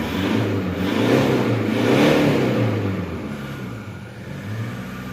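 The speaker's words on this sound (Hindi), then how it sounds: "ابھی میں گاڑی کو نا ایکسلریٹ کروں گا 2000 RPM تک." The engine of a 2016 Toyota Hilux is revved to about 2000 RPM. A close, steady mid-pitched engine drone swells and eases over a few seconds.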